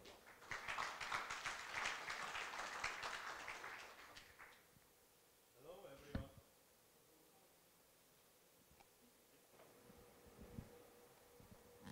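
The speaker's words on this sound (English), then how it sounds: "Let's give a round of applause for Moon Jae-hyung." Audience applause at the 2023 World Organic Youth Summit award presentation, a burst of many hands clapping for about four seconds that fades out, followed by quiet room noise and a few faint bumps.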